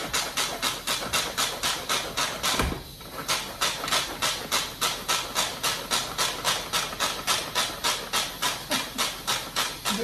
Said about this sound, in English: I have this little Pampered Chef food processor